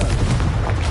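A Confringo fire spell bursts in Hogwarts Legacy on PS5 with a short, dense, roaring blast that fills the whole moment at steady loudness.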